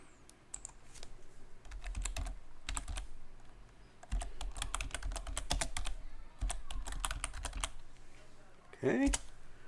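Typing on a computer keyboard to enter an upgrade command for Linux Mint 17.3 to 18, with close, crisp clusters of keystrokes in bursts separated by short pauses and a final louder clack near the end.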